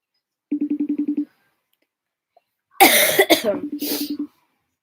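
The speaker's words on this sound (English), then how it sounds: "This cough is like so irritating" A short burst of rapid, rhythmic coughing, then a pause, followed by harsher, louder coughing fits up close.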